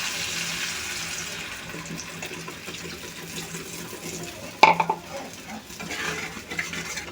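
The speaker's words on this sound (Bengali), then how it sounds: "কষানো হয়ে গেছে, এখন একটু জল দিয়ে দেব।" Water is poured into a pan of cooked-down gravy for mustard puti fish, a steady close splashing pour with a sharp clatter of the pan partway through.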